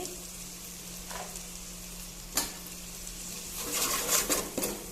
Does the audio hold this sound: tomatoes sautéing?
yes